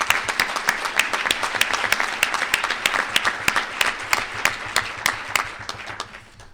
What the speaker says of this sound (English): Mike, we really owe you a round of applause.